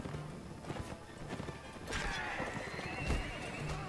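A horse whinnies and hooves clatter amid battle noise in Mount and Blade: Warband, with a rising neigh in the middle and scattered thuds and impacts around it.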